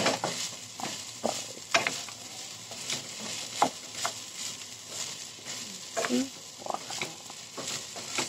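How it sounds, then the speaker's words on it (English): A spatula scrapes and stirs chow pan fried rice in a hot pan over a steady sizzle, with irregular close scraping strokes and no talk. "I'm cooking the ChowPan"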